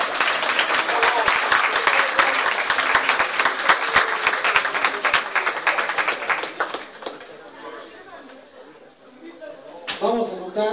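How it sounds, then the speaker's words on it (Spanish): Applause fills a municipal political assembly of the Morena party in Puebla, a crowd clapping steadily for about seven seconds before it thins and a voice begins speaking. "Un aplauso, compañero Osvaldo"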